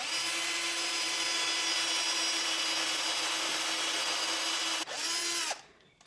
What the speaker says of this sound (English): I'm now drilling the second to last of these matching dowel holes